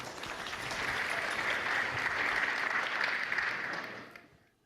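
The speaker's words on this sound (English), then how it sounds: "let's give them another round of applause" Audience at a sangeet night applauding the evening's performers, a full, even wash of clapping that swells, holds, then fades out at the end.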